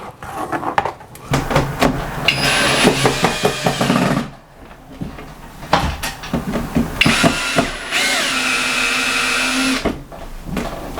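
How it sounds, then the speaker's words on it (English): A power drill whirs in two sustained bursts of a few seconds each, separated by short clicks and handling knocks, close to the microphone. "drill a little hole there and put a screw in it"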